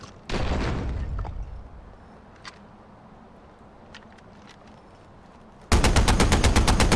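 Gunfire at a car in the Far Cry 4 video game: a loud burst of shots up front, scattered lighter pops, then a rapid, dense machine-gun stream at the end.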